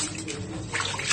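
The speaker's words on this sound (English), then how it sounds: "Wash your rice." Rice being washed in a bowl of water, a brief wash of swishing and sloshing liquid, close and fairly loud with no voices.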